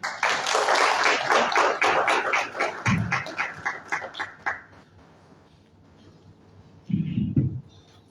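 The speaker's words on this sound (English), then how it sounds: "A round of applause." An audience at a formal visit welcomes a USAID executive with a burst of clapping that thins into scattered claps and fades out, followed by a brief low murmur.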